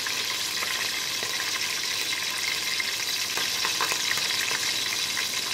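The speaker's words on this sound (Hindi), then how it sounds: "हम इसमें थोड़े फ्राई होने के बाद हरी मिर्ची को थोड़े फ्राई होने देंगे" Steady, bright crackling sizzle of green chilies frying in hot oil, continuous and close, with faint pops throughout.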